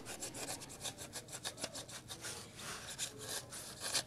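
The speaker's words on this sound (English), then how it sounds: "started just kind of digging in with this hacksaw blade" A hacksaw blade cuts with quick, even back-and-forth rasping strokes, close and steady throughout, with no voices.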